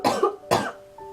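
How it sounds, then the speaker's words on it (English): Two sharp, close coughs in quick succession, the second followed by a brief faint voiced hum. "I need to cough."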